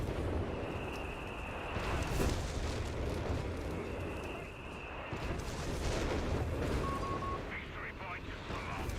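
Base artillery fires in a Company of Heroes 3 2v2 match as distant booming blasts and rumbling impacts, partly buried under a commentator's continuous talk.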